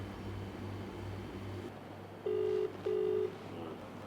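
A telephone rings in two short electronic bursts over a steady low hum, with no voices in between.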